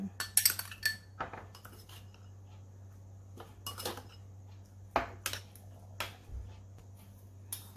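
A spoon stirs salad dressing made with lime juice and shallots in a bowl, giving scattered metallic clinks and taps against the dish in irregular bursts, fairly quiet and close.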